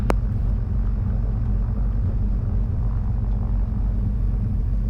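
A twin-engine Cessna taxis out for departure, its engines giving a steady low rumble with a brief click at the start, and no one speaks.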